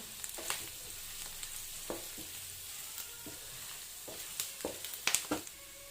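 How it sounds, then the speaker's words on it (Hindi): Hyderabadi fried mutton sizzles in a pan as curry leaves, coriander and green chillies are stirred in, giving a steady frying hiss with scattered scraping clatters of the spoon that grow busier toward the end. "अपन ये करिया पत्ते के लीव्स, कोथिमीर और ये ग्रीन चिल्ली डाल लेंगे अपन इसमें और अच्छे से मिक्स करेंगे इसे"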